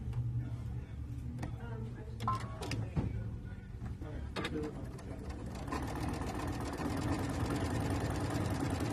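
A sewing machine runs in short bursts and then steadily as it stitches quilt block triangles, a quiet rapid mechanical whirring with ticking needle strokes and a few faint clicks in between.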